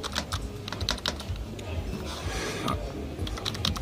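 Fast typing on a Trust Erou silent keyboard tested in a store, with quick clusters of soft clicking keystrokes close up, a brief pause, then more bursts over store background noise.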